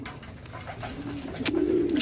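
A racing pigeon gives a low sustained coo, rising in the final second, close and clear against a soft background.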